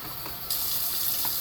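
Water running from a kitchen tap into a container to mix chicken bouillon seasoning into broth, a brief steady gush that starts halfway through and continues to the end.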